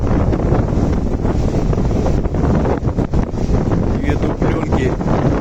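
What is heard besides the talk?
storm waves and strong wind on the Black Sea coast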